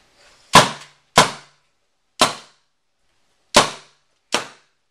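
An air gun fires five sharp, loud pops, each followed by a short hiss, spaced unevenly over a few seconds as the tank pressure is purged.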